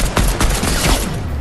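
Rapid burst of loud gunfire in the video game Fortnite, several close, punchy shots fired in quick succession over about a second and a half.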